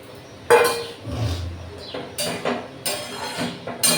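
Fish pieces go into a pot of simmering green mango sour curry with prawns and vegetables, giving a few sharp metallic clanks and clattering knocks of utensil against pan, close and fairly loud.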